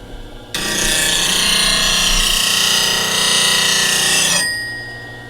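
A spindle roughing gouge is held against a bench grinder wheel on a platform tool rest, giving a loud continuous grinding hiss for about four seconds that starts abruptly and fades as the tool is lifted away.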